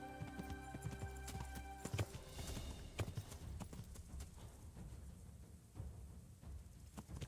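Horse hooves clip-clop at a galloping pace in the medieval game Kingdom Come: Deliverance, a steady rhythmic patter that stays fairly loud throughout, with a brief whinny-like cry partway through.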